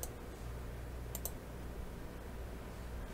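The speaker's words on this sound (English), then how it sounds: "we're going to click save" A pair of quick mouse clicks while saving a setting in the Openmediavault setup, faint and close, set against a steady low hum.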